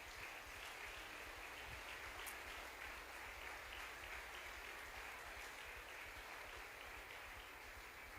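A church congregation applauds at a Sunday service, a faint, steady wash of many hands clapping heard from a distance without letup.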